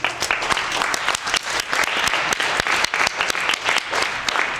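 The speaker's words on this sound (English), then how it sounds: "Everybody else, give yourself a round of applause." A group at a dance audition applauds in a loud, continuous burst of close, overlapping claps that keeps a steady intensity throughout.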